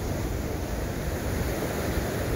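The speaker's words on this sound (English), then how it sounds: "Had the sound of the waves accompanying the eclipse" Steady roar of surf washing onto a beach at Mazatlan, Mexico, continuous and broadband, mixed with wind rumbling across the microphone.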